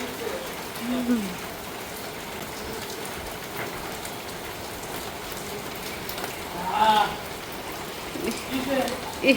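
Steady rain patters on surfaces throughout, with faint voices murmuring in the background now and then.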